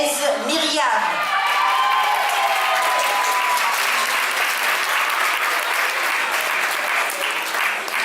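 An audience gives loud, sustained applause for a finalist at the Mademoiselle Île de la Réunion 2024 pageant, dense clapping mixed with cheers and whoops that fills the whole stretch.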